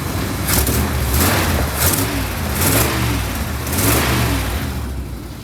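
A 1972 Chevrolet C10 pickup engine revs repeatedly in steady surges, with a rumbling exhaust note rising and falling close by.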